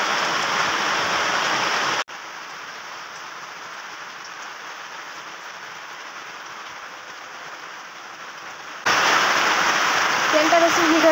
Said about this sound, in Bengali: আর বৃষ্টিও চলে এসছে